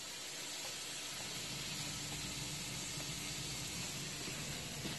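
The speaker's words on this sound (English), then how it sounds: "I'm actually steaming the kale down." Kale steaming down in a pan gives off a continuous, even hiss of steam that holds steady throughout, close by and with no voices.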